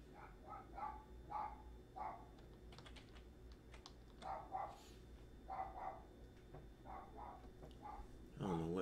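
Dog barking repeatedly in short bursts from somewhere nearby but faint, mixed with the clatter of a computer keyboard being typed on.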